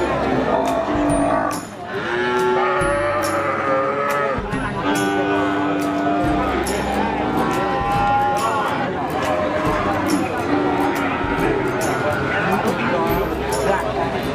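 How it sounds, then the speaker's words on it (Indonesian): A mother cow that has recently calved moos repeatedly at a cattle market, loud and close, with people talking and crowd noise around. "Ini sapinya sudah baru beranak satu kali ini"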